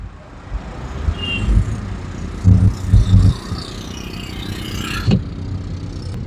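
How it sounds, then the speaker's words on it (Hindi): An auto rickshaw engine rumbles close by, heard through a lowered car window amid traffic noise, low idling growls that swell in a few louder bursts. "जैसे ही मैंने इसका शीशे नीचे करा ये बहुत शोर मचा रहा था ऑटो रिक्शा"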